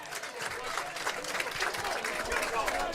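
Baseball crowd applauding and cheering from its feet with two strikes in a Hamilton Cardinals game against Welland, a steady wash of clapping and crowd noise sustained throughout, with voices mixed in.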